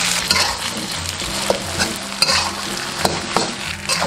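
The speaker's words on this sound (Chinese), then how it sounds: "下入胡萝卜丁儿、豌豆，再翻炒均匀，加入蒸好的糯米饭" Diced carrot, peas and steamed glutinous rice stir-fried in a wok, a steady close sizzle broken by repeated scraping and tossing strokes of a spatula, with no voices.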